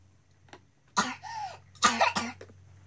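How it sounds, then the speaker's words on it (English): A little girl coughs in two rough, close bursts with a throat-clearing quality, over a steady low hum and a quiet room. "Who's coughing?"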